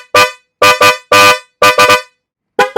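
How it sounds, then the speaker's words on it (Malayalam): A car sports horn blares in seven short, loud, bright blasts, some in quick pairs and others spaced out, with silence between them. "അതും സ്പോർട്സ് ഹോണ്, എല്ലാം നല്ല ക്വാളിറ്റി വെറൈറ്റി ഡിസൈനിങ്ങിലോട് കൂടി മെയിൻറ്റെയിൻ ചെയ്തിട്ടാണുള്ളത്"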